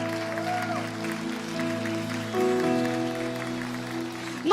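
A church congregation applauds under sustained musical tones, a steady moderate wash of clapping lasting the whole stretch and swelling slightly near the end.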